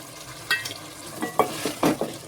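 Potatoes and chopped tomato sautéing in a pan for a Bengali potato fish curry, with a few distinct stirring scrapes and soft sizzles at close range, no voices.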